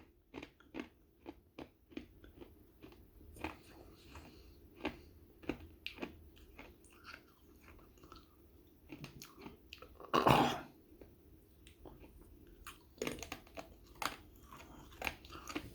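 Someone chews 32-year-old 1991 Fleer gum up close, with crisp crunching bites in an irregular rhythm and one louder crunchy burst partway through.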